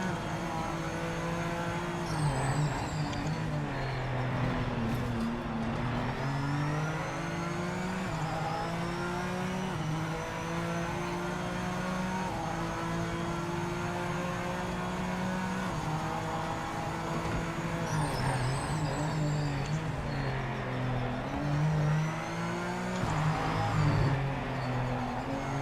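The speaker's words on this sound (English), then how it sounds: "And I hit the rev limiter" A race car at Long Beach revs hard and loud, its engine note climbing and falling repeatedly as it bangs against the rev limiter, with a few passes of other cars.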